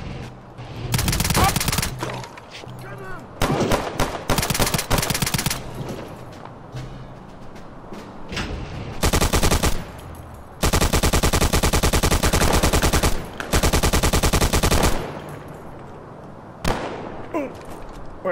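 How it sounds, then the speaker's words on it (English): An MG42 machine gun fires in Return to Castle Wolfenstein, sustained bursts of rapid automatic gunfire repeating loudly across the stretch, with short gaps between volleys and a few single shots near the end. "I got an MG42."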